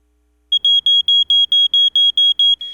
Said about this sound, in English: This Duluth family credits their smoke alarm with getting them and their children out alive.